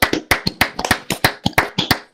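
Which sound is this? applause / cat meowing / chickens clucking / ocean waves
applause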